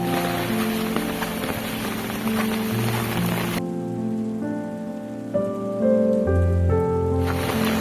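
Steady rain pattering on surfaces at a riverside launch ghat during stormy weather, close and continuous with a brief change in texture midway.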